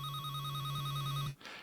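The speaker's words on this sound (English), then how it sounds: "Or we can go for an older landline type phone." An older landline-style telephone bell ringing, a Foley sample: a steady, loud electronic ring tone with a warbling upper pulse, sounding alone before cutting off into a short burst of rustling noise.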